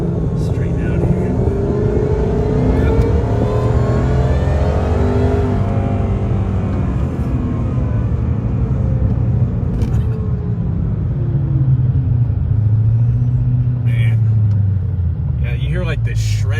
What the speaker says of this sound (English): It's not just blower whine. It's like something's being destroyed.